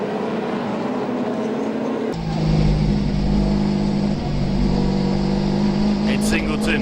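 Racing cars, a BMW M3 and the STP Commodore, roar around Eastern Creek Raceway, a loud continuous engine drone that deepens and swells midway, with a commentator talking over it.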